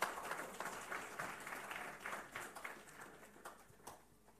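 Applause at a trade forum conference, a faint, distant patter of clapping from the audience that holds fairly steady, then thins and fades toward the end.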